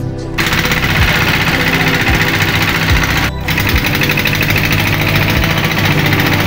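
A trawler boat engine chugs loudly and steadily near the coast of Guliakhali in Sitakunda, a continuous mechanical drone with rhythmic low thumps throughout and no talking.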